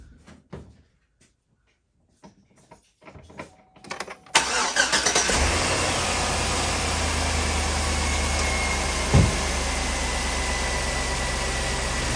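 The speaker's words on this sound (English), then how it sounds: "So I'm going to go and crank the engine now." A truck's fuel-injected engine being tested for fuel pressure: a few clicks and clunks, then a crank that catches and starts at once, settling into a steady close idle with one brief louder bump.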